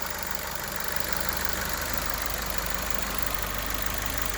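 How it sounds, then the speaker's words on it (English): A 2013 Ford Fiesta engine idling smoothly, a quiet, steady mechanical hum with a faint ticking rhythm, heard close and alone with no voices. "Motor running very smooth."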